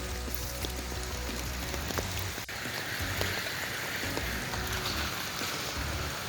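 Steady rain on a rainy day, a dense continuous hiss of drops with faint patters and trickling water, even and enveloping throughout, no talk.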